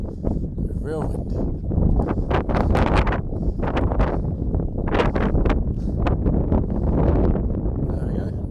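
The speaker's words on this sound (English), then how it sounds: "Real windy." Strong gusting wind at an outdoor dog park, a steady loud roar buffeting the microphone throughout, with swelling rushes and no clear voices.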